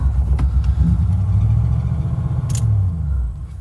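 A Ford Bronco that sat for 16 years runs with a steady, loud, low rumble, its engine still littered with leaves, corn and straw. The running is continuous and close, with no talking over it.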